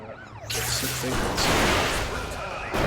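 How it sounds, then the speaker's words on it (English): Police car siren from the Carmageddon Reincarnation video game, wailing loudly behind roaring engine noise and crashes, continuous through the short stretch with a sweeping pitch. "it's also showing us a police car chasing us"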